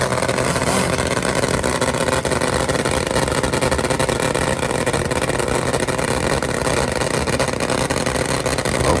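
Top fuel nitro drag motorcycles roar down the strip at a drag racing event, a loud, dense, continuous engine blast that holds steady throughout with no talk.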